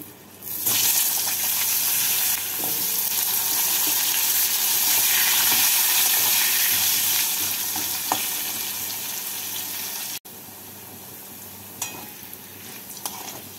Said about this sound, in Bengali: এবার এর মধ্যে আমি আলুগুলোকে দিয়ে আলুগুলোকে লাল করে ভেজে নেব